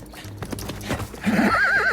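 A spirited, hot-tempered horse on a ranch whinnies loudly in a rising and falling neigh, after a run of close, rhythmic hoof clip-clops and shuffling movement.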